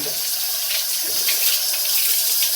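Tap water pours steadily over a Dyson Gen5detect dust bin being rinsed in a sink, a close, continuous splashing gush.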